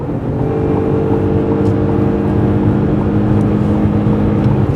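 A 2025 Ford Escape Plug-In hybrid SUV accelerating to pass on the highway, heard from inside the cabin as a steady, loud engine drone with road and wind roar, no talking.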